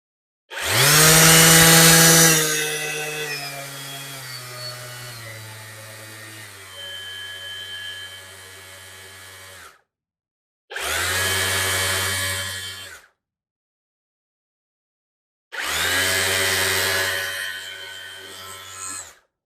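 A cordless orbital sander from AliExpress running loud and close in three separate bursts, with a whining motor whose pitch drops in steps across its speed settings, stopping fully between runs.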